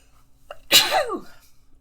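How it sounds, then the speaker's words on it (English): A single loud sneeze, close to the microphone, from a person streaming a play session of Disco Elysium: a short intake of breath, then a sharp burst that trails off over about half a second, with no talking. "Sorry, I feel a sneeze coming on."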